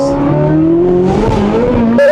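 Chevy sports car of about 670 horsepower accelerating hard at part throttle and downshifting, a loud, close engine note rising steadily in pitch then dropping and climbing again at the gear change.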